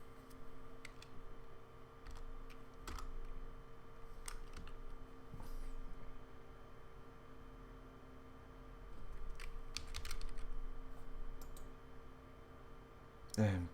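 Computer keyboard typing during a software development session, light irregular key clicks scattered through the stretch, faint and close under a steady hum of room noise.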